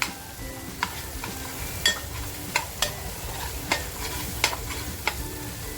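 Homemade masala and turmeric stirred into frying oil for an egg curry, a steady soft sizzle broken by several light clicks of a spoon against the pan, close by with no talking.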